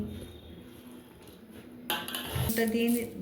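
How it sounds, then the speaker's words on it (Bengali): Spoon stirring spices, ghee, salt and sugar into fried rice in a pot, with scraping and clinking of utensil against metal growing louder toward the end over a steady kitchen background. "তারপর এখন সবগুলি মশলা মিশিয়ে নিচ্ছি। ঘি দিয়ে দেবো, স্বাদ মতো নুন, চিনি"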